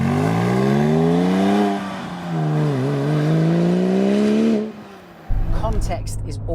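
Porsche 996 GT2 engine revving close by, its tone climbing, dipping and rising again before cutting off abruptly, followed by a rougher burst of engine noise.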